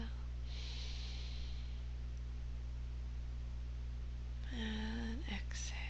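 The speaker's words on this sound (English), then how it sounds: "Inhale. And exhale." Slow deep breath during a Kundalini yoga kriya, a long soft airy inhale early on, then a quieter stretch and a brief nasal, voiced exhale near the end over a steady low hum.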